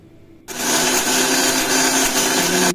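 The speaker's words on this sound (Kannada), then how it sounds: "ಮಿಕ್ಸಿಗೆ ಹಾಕಿ ಗ್ರೈಂಡ್ ಮಾಡಿದ್ದೀನಿ ಚಟ್ನಿನ." A kitchen mixer grinder grinds chutney, switching on abruptly after a brief quiet moment and then running as a loud, steady motor whir close by until the end.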